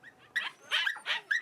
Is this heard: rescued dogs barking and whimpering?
yes